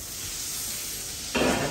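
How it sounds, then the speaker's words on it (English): Butter melting in a hot pan with a steady, close sizzle and hiss that swells louder and brighter near the end. "in the same pan, some butter. The butter gives your sauce a very nice flavor. So some butter, help that melt."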